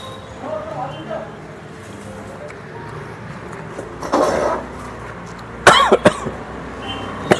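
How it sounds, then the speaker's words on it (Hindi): Harsh coughs break out at a street food stall in Indore while someone eats fruit bhel, a few sharp bursts rising over steady background chatter and traffic. "मैंने पहला ही बाइट लिया था और मुझे खांसी का ठसका लगा"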